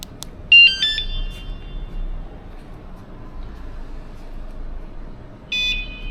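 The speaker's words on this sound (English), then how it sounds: "This is a confirmation sound that the system is now activated." A motorcycle alarm on a Kawasaki Ninja ZX-4RR gives two short bursts of electronic chirping beeps confirming activation, one near the start and another near the end, with quiet background noise between them.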